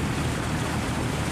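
A fishing boat's engine heading out to sea from a harbour mouth in Binh Thuan, a steady dense drone mixed with wind and rushing water, loud and unbroken.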